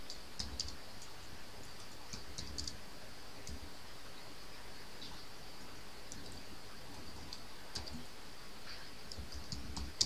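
Keys tapped on a computer keyboard as a command is entered, a steady run of light, close clicks with brief pauses, alone without talk.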